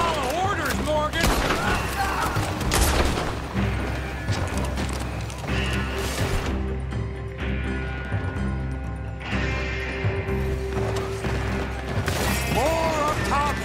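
Gunshots crack out during a Red Dead Redemption 2 fight, mixed with hoofbeats, shattering and loud game action, while characters shout over the chaos.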